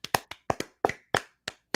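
A small group on a football postgame show gives a few scattered, sharp hand claps, about eight distinct close claps at an uneven rhythm, with silence between them.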